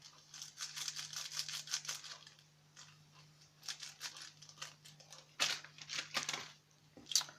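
Crinkly plastic rustling and tearing of an instant noodle packet (Rollton) being opened, a run of close, busy crackles with short pauses and a sharper rip near the end, heard alone.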